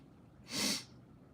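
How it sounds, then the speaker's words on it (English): A single short, sharp sneeze bursts out of a quiet room and stands alone with no speech around it. "Oh, I'm gonna sneeze"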